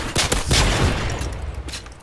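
Pistol gunfire in a video game survival mode on the Seatown map: a quick string of sharp, close shots packed together, loud and steady for two seconds with no talk.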